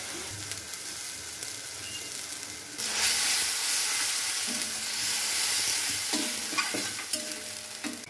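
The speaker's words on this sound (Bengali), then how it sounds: "তারপরে উষ্ণ গরম জল, পরিমাণ মতো লবণ, হলুদ ও ঝালের গুঁড়া দিয়ে ভালো করে কষিয়ে নিতে হবে।" Spices sauté in a pan with warm water, salt, turmeric and chili powder for a fish curry with banana flower, giving a continuous close sizzle and hiss that grows louder partway through, with scattered stirring scrapes and no talking.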